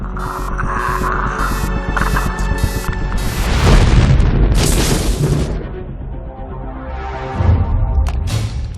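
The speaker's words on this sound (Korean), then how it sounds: "이 폭발은 주변 15km 반경을 초토화시킬 정도의 강력한 위력을 발휘합니다" Self-destruct blast from a Predator suit's wrist control panel: a loud, sustained low boom and rumble with rising roar and bursts of hiss, throbbing on for several seconds alone.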